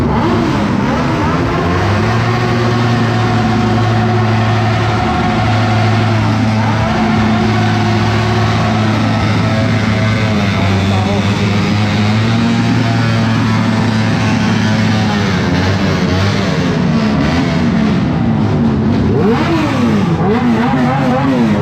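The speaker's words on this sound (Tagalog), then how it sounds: "Yan yung motor ni Nalang" A hot-running motorcycle engine at a motor and car show runs loud and close, its revs rising and falling in sustained pulls, with a brief burst of throttle near the end.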